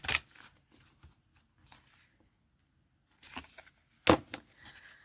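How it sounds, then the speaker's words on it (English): Oracle cards being shuffled by hand during a tarot reading: a quick riffle at the start, then two later bursts of papery flicking and slapping, close by with quiet gaps between. "I feel like I need to shuffle another time."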